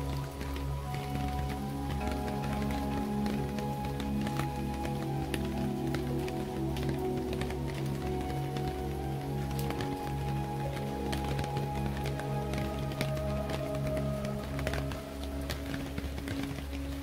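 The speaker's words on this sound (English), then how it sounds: "But you can hear the rain." Rain falling outdoors at a mountain lookout point, a continuous soft patter and dripping under a steady low hum, with no one speaking.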